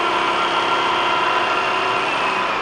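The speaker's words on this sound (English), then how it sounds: "that bad noise you're hearing is my drawbar" A running Wells-Index Model 847 vertical milling machine in high range at about 2,400 RPM, its loose drawbar flopping and rattling in a constant dense buzzing whir throughout, close and loud.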